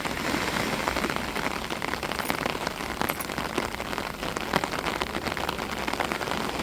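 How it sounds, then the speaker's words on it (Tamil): Heavy rain pours down at a beach as a dense, continuous hiss of drops striking surfaces, steady and close, with no voices. "கடற்கரையில் எப்படி மழை பெஞ்சிருக்கு"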